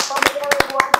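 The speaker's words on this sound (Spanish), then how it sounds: "El aplauso a la Victoria." Applause from a live audience on a family-themed church television program, a brief burst of quick, uneven hand claps, close and fairly loud, alone without talk.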